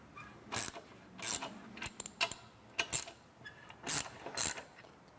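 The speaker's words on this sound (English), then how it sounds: "So we'll loosen up our top 2 bolts." Top two bolts on a car wash top brush assembly being loosened with a wrench, giving a run of close ratcheting clicks and metallic knocks in irregular bursts, with no talking.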